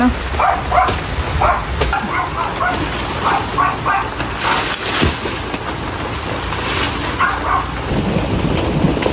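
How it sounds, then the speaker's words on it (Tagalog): Rain falls steadily as a low rumble of thunder rolls underneath, with faint scattered chirps in the background. "Nakulog pa."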